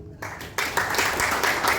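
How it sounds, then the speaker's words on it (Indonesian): Applause from an audience at a regional convention held in a hotel, starting abruptly and continuing as a steady, fairly loud round of clapping. "Kita beri tepuk tangan dulu"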